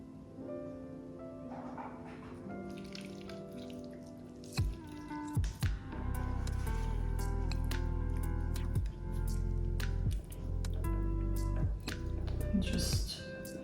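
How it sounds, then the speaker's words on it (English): Water is poured onto solid hard oils in a container while making honey, oatmeal and coconut milk cold process soap. A few wet drips come first, then a steady, fairly loud splashing pour with brief breaks, up close. "I am going to carefully put the water on my hard oils"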